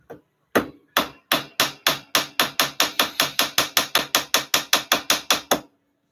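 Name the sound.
hammering on gold in jewelry smithing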